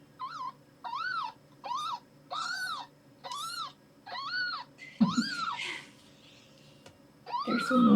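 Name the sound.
cat and newborn kittens meowing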